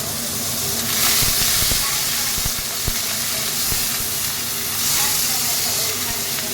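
Vegetables with ginger juice go into a pan of oil tempered with a few nigella seeds and sizzle, a steady close hiss with small crackles and clinks as they are stirred.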